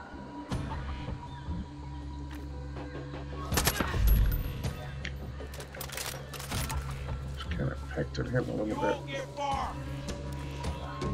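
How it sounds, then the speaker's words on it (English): Gunfire in the Far Cry 5 Arcade game, several bursts and rattling shots close by, mixed with voices talking over the shooting. "They're shooting each other?"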